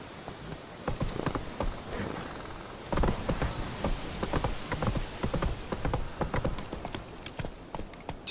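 Roach the horse gallops in The Witcher 3, with quick rhythmic hoofbeats clopping loudly and continuously under light rustling and no voices.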